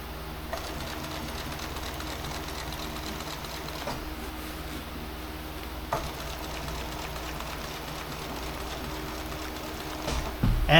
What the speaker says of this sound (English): feed this whole top through the sewing machine